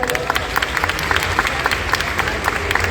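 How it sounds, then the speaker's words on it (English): Audience applause at a fan convention panel in Paris, a steady dense wash of clapping with occasional louder claps and a murmur of crowd voices underneath. "On peut les applaudir, s'il vous plaît."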